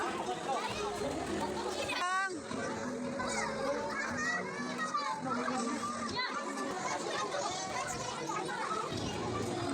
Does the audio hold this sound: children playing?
yes